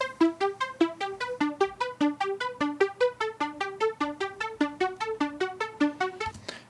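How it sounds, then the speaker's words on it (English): A dry synth arpeggio loop plays in Ableton Live, a short repeating pattern of plucky, evenly spaced notes stepping up and down at a brisk tempo, clean and without reverb, with no voices. "synth line arpeggio loop thing"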